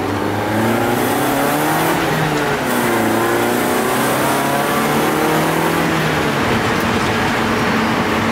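A cheap Toyota Corolla drift car is driven hard, its engine revving and pulling through gears in a loud, steady drone with rising and falling pitch, heard from inside the car with no voices.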